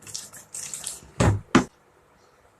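Short bursts of tap water run from a faucet while a toothbrush is moistened, two brief splashing gushes following softer trickles, close and alone.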